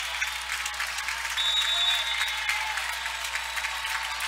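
The home crowd in a gym applauds and cheers late in a girls high school state basketball final, McPherson versus Bishop Miege, with a dense, steady clapping that swells briefly and holds at a moderate level without talk.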